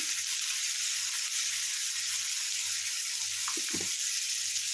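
Dry fish gravy with turmeric frying in a pan, a steady bright sizzle that runs throughout, with a low rhythmic hum beneath and a couple of brief stirring knocks near the end.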